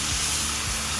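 Carrots and red potatoes cook beside a pork roast in a Lodge cast iron pot over a campfire, giving a steady, unbroken sizzling hiss, close and fairly loud, with no voices.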